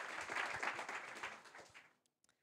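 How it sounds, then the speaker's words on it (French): A conference audience gives quiet, distant applause as a startup CEO is welcomed to the stage, steady clapping for about two seconds before it stops, followed by a few last isolated claps. "Sous vos applaudissements, merci."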